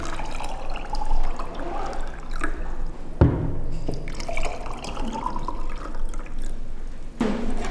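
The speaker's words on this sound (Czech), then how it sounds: "Nalijeme vařící vodu." Boiling water poured into glasses holding salt, a steady liquid splash and trickle with a few clinks of glass, close and moderately loud with no talking.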